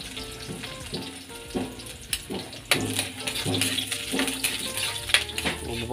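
Garlic fries in hot oil in a pan, a busy crackling sizzle with sharp pops and scraping stirs that grows denser and louder partway through, with faint voices underneath.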